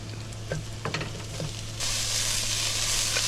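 Miso paste frying in a pan, a close sizzling hiss with a few soft stirring taps early on, growing brighter and louder partway through, with no talking.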